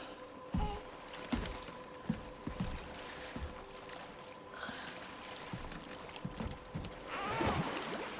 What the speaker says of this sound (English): Enjoy the gentle waves, little one. Your father and I traverse this river often.